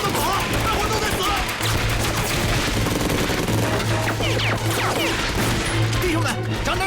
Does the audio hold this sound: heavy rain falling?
no